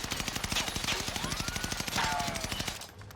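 Rapid automatic fire from a Gorenko submachine gun in a video game, a dense unbroken stream of sharp shots at close range that stops abruptly near the end.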